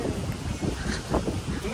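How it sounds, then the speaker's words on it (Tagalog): Strong wind gusts outdoors, buffeting loudly against the microphone in uneven, rumbling pulses. "ang lakas ng hangin"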